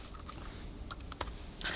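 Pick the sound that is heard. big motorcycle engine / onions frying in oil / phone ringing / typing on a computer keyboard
typing on a computer keyboard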